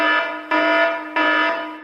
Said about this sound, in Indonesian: Saat Ian sedang beraksi, tiba-tiba alarm rumah saudagar kaya itu berbunyi.